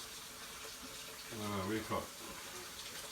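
Tap water runs briefly into a pan in a home kitchen for gravy, a soft steady rush lasting about a second under a speaking voice asking a question.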